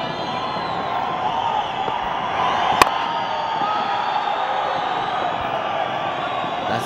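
Cricket crowd cheers for bowler Darshan in a Karnataka Bulldozers vs Bengal match, a broad, steady roar of voices filling the stadium with a brief sharp spike partway through.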